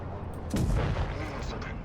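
A heavy tank cannon blast from the Caernarvon tank in WoT Blitz booms once, followed by a rumbling low roar that trails off, set against a dense noisy background.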